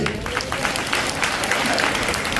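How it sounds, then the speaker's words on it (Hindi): A church congregation claps together during a Hindi sermon, a steady wash of many hands clapping, fairly close and continuous for a couple of seconds, with faint voices underneath. "ताली बजा के"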